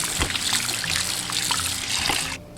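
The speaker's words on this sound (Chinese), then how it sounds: "把剥好的虾仁清洗干净" Peeled shrimp are rinsed under running water, with a close, steady trickle and splash that stops abruptly near the end.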